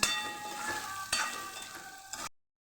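Spices stirred in a frying pan with oil for Kathiyawadi lotiya chilies, giving a steady close sizzle with soft scraping strokes for a couple of seconds before cutting off.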